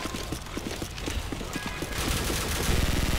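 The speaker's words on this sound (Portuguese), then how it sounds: "Todo mundo atirando de mim." Rapid bursts of automatic gunfire crackle through a Call of Duty firefight in a Rio favela map, dense and continuous, growing louder toward the end with overlapping shots and no talk.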